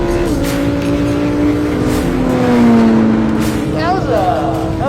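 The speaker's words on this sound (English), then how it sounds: "I thought this Lamborghini was fast" A Lamborghini and a Porsche launch side by side in a drag race, a loud, continuous engine roar climbing steadily in pitch as they accelerate, with voices heard over it.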